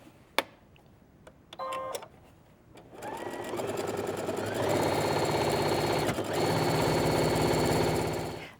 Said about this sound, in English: we're going to sew the side, bottom, and remaining side seams